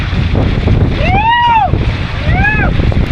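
Loud, blustery wind roars across the microphone along with rushing water close to Kataldhar waterfall near Lonavala, while a high voice calls out twice in rising-and-falling tones.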